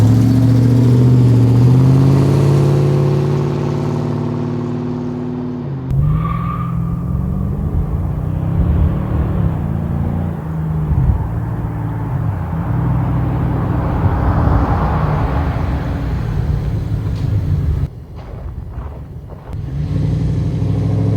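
A Dodge Dakota pickup, just fitted with new brakes, accelerates for a braking test and then slows to a stop, its mid-pitched engine rumbling loudly and steadily, with cabin noise and a brief quiet stretch near the end.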